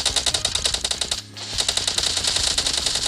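Rapid automatic gunfire in the mobile battle royale game BGMI during a 1v1 room match, a loud, steady rattle of shots with a brief pause midway before firing resumes.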